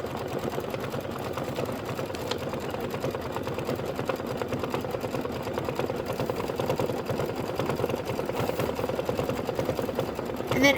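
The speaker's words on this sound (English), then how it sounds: "I'm going to go ahead and hit start and let it do its decorative stitching" Embroidery sewing machine running decorative stitching on a quilted pillow block, a fast, steady mechanical chatter of needle strokes continuing evenly throughout, close and moderately loud.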